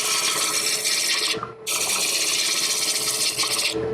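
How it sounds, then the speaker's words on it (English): Spindle roughing gouge shaping wood on a lathe during hollow turning, a loud continuous rasping, scraping cut that breaks off briefly before resuming, close up with no talk. "we're going to start the shaping process here. Again, just using the spindle roughing gouge"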